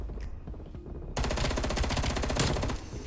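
In Black Ops Cold War, a FAMAS fires a rapid, sustained automatic burst, loud and close, after a quieter stretch of game noise with faint scattered shots.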